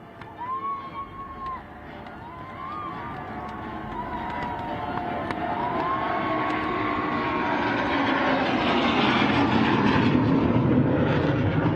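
Indian-made jets and helicopters fly at the Aero India airshow, a broad jet roar that swells and grows steadily louder, with thin whining tones early on and faint voices in the crowd.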